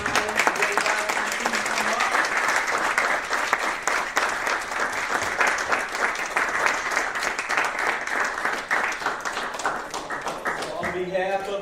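An audience at a village ceremony in Maywood applauds: sustained, dense clapping that carries on steadily, then fades as a voice begins speaking near the end.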